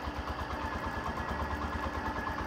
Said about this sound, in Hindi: आइडियल कंडीशन पर इस बाइक के इंजन का साउंड सुनिए